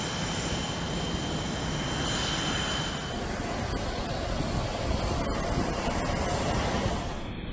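Military jet aircraft at takeoff during a red-alert scramble, a loud continuous engine roar that holds steady throughout, with a broad rushing wash and a high whine on top, and no voices.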